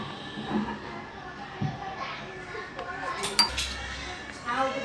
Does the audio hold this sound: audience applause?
no